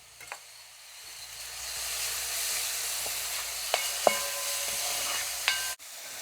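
Two crushed green chillies fry in a hot pan, giving a bright, continuous sizzle close by with a few small clinks of a utensil against the pan and a short break near the end.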